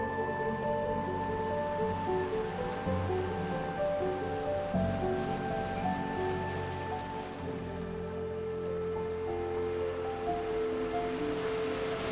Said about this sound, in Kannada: Welcome to Radhanagar beach.